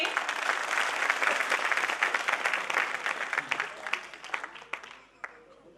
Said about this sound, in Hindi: तालियां हो जाए एक बार इनके लिए